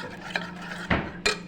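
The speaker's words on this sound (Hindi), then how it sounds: "इसको खूब अच्छे से मिक्स करेंगे।" Potato bite batter with white vinegar stirred in a bowl, three sharp clinks of a utensil against the dish at irregular intervals over a quiet background.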